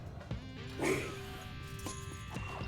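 A dog barks once in the Quantum Conundrum video game, a short, fairly loud yelp rising over steady background game music.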